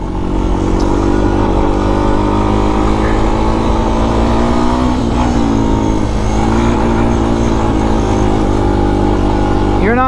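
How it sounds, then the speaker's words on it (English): Honda TRX 250X carbureted ATV engine running hard in third gear, a loud steady close-up drone rising as it spools up, with wind and clatter over it. "You'll hear the engine spools up pretty good on this thing."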